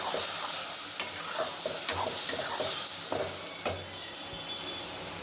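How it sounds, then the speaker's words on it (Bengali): Onion and garlic sizzle steadily in hot oil while cooking crab, a constant loud frying hiss broken by a few scraping stirs of a utensil in the pan. "পেঁয়াজ রসুনটা দিয়ে দিই"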